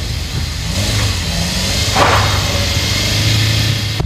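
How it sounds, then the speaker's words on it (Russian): Car engine revving hard as wheels spin, stuck in slushy snow on a residential street, a steady strained drone with a brief louder surge midway. "Машины буксовали и застревали в снежной каше."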